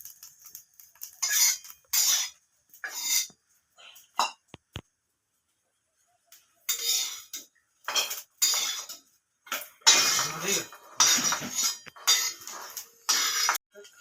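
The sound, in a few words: crushing roasted pavta beans in a mortar and pestle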